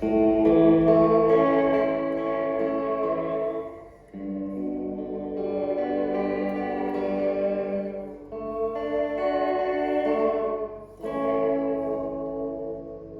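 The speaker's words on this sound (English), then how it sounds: "still tap echo, room reverb, to low degree of fidelity and high degree of tap saturation, then noise mode" A Fender Reflecting Pool pedal with tap echo and room reverb, set to low fidelity and high tap saturation, then switched to noise mode, processes a sustained, harmonically rich tone that swells in three long phrases with short gaps, loud and alone.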